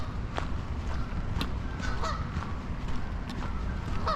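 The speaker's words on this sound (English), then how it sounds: "Canadian goose" Canada geese honk repeatedly at moderate distance during a walk outdoors in Calgary, scattered calls rising over a constant roar of wind or traffic.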